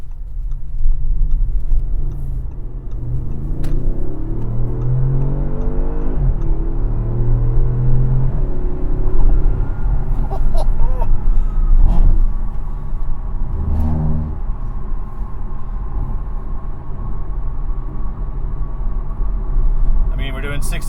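A 2016 Audi S7 cruising at about 64 mph, heard from inside the car as a loud, steady low engine and road rumble, with a slight rise in engine pitch midway and a voice talking over it.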